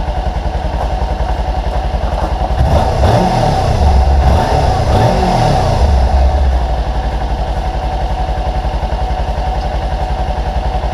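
A motorcycle engine idles with a steady low throb, then revs up loudly for a few seconds before settling back to idle.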